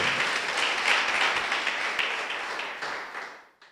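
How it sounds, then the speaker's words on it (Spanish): Church congregation applauding during a sermon, a steady dense wash of clapping that holds for several seconds then fades out quickly at the end. "Dale un aplauso al Señor."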